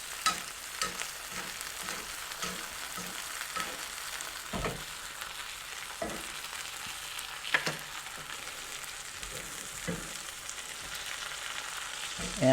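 Calves liver sautéing in browning butter in a pan while being basted, a steady close sizzle and fry with regular soft spoon taps and scrapes throughout.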